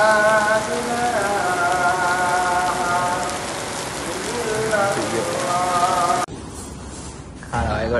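Steady rain pours onto a surface, a dense continuous hiss with drops pattering, while faint voices murmur underneath; the downpour cuts out briefly near the end and then returns.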